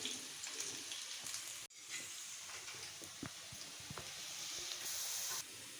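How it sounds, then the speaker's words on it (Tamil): Garlic frying in oil until golden and crisp for a spicy puffed-rice snack gives a steady close sizzling hiss with small crackles and pops throughout, briefly dipping near the start. "பூண்டு நல்லா பொன்னிறமாக நல்லா வதங்கட்டுங்க"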